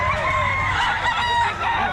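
A young gamecock (bullstag) crows loudly and close by, one sustained rooster call filling the moment, with other chickens clucking around it in a busy, noisy outdoor setting.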